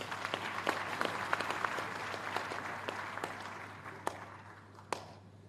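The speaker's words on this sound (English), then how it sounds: "the Chancellor deserves another round of applause, please." Sustained applause from a large audience at a University of Lagos convocation ceremony, many hands clapping together, gradually thinning and fading out toward the end with a few last claps.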